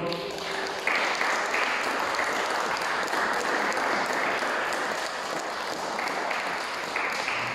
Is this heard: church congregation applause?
yes